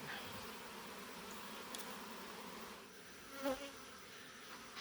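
Honeybees buzz steadily around an outdoor beehive, a faint continuous drone with a single bee passing closer for a moment.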